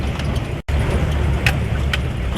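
A heavy off-road jeep rumbles steadily over a rough track, a dense low engine and road roar with a brief dropout partway through and faint rattling on top.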